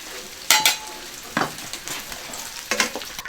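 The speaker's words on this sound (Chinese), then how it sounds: "把那五花肉先炒香哈，把它的油全部给它逼出来。" Pork belly is stir-fried in a hot wok, with bursts of sizzling and scraping stirs coming in a few separate surges over a steady background crackle. The sound is close, with no voices.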